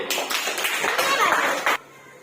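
A third-grade class of children clapping together in a classroom, a short burst of several ragged claps lasting under two seconds, with voices mixed in, then quiet room tone.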